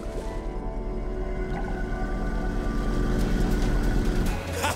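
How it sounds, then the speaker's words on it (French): A long, low, moaning whale call drones steadily over a continuous mechanical rumble, loud and sustained. "la sirène est en réalité une baleine"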